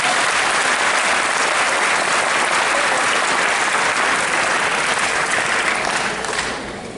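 Loud, dense applause from a large audience at an eighth grade moving-up ceremony, a continuous wash of clapping that holds steady and then begins to fade near the end.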